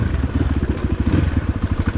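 A Crossfire RM250 dirt bike engine runs on an offroad trail, a close, rough, rapidly pulsing low thump with a crackling edge, steady and loud with no talking.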